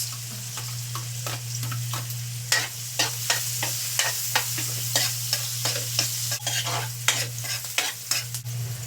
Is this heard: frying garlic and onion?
yes